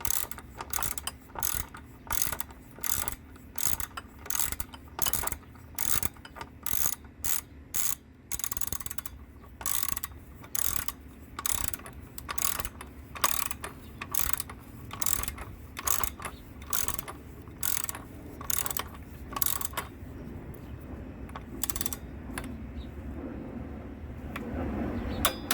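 A hand ratchet tightens the battery retainer bolt on a Chevrolet Sonic, giving a long run of steady, close clicking strokes that slows and thins toward the end, with no talking.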